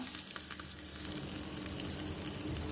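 Cumin, mustard seeds and curry leaves sizzle and crackle in hot oil during tempering for Udupi-style sambar, a steady, close frying hiss that grows slightly louder throughout, with no talking.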